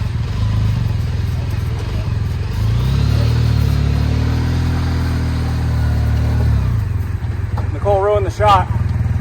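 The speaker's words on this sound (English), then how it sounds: "I'm driving away from it." A car fitted with headers drives off, its engine loud and close as it swells in a sustained rev, then drops back to a steadier rumble.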